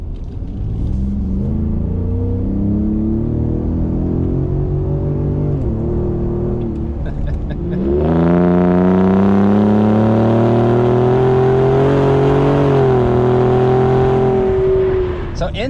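A 2018 Ford Raptor truck engine revs, its induction noise heard as a rising, droning whine. One moderate rev comes first, then a louder, sustained rise partway through that holds steady to the end.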